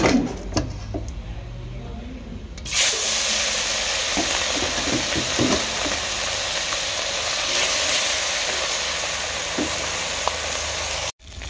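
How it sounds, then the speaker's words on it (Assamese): Fish frying in hot oil with ginger, a loud, steady sizzle and hiss that starts abruptly and runs continuously, with occasional clinks of stirring and a faint voice briefly at the start. "মাছকেইটা অকণমান ভাজি ল'লোঁ"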